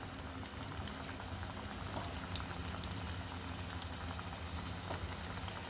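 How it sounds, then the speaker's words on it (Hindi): Spinach pakoras deep-frying in hot oil give a steady, dense sizzle and bubbling close by, with small pops scattered throughout and no talking. "इसलिए गरम गरम तेल में आपको इसको फ्राई करना है।"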